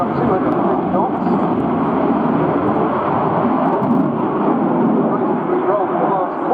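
A Swedish Air Force Saab JAS 39 Gripen flies a low-speed loop at about 250 knots at an airshow, its jet roar a loud, steady, broadband rush that holds constant with no talk over it.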